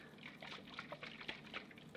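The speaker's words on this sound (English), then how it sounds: "You can hear some water in it." Water sloshing inside a heavy whole coconut as it is shaken, a faint, close series of soft liquid splashes and trickles in quick, uneven rhythm with no talking.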